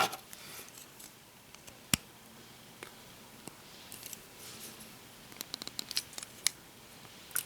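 Plastic upgrade kit pieces are pressed onto an Optimus Prime toy, giving small sharp clicks and snaps, close and scattered, some in quick clusters, over quiet room tone.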